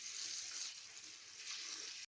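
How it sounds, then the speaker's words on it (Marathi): Tap water runs in a steady, even stream while fenugreek leaves are washed in a kitchen, a close, hissing flow that stops abruptly at the end. "आता आपण मेथी स्वच्छ पाण्याने धुवून घेऊ"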